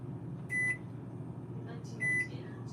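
A kitchen microwave oven beeps twice while its timer is set, each a short bright electronic tone about a second and a half apart, over a steady low room hum.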